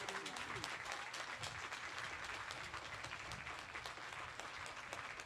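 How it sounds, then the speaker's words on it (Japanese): Warm applause rolls through the stadium after a women's football match between Ehime FC Ladies and AS Harima Albion, a dense, sustained clapping crowd heard from a distance, fairly faint and even throughout. "しかし場内からは温かい拍手が送られています"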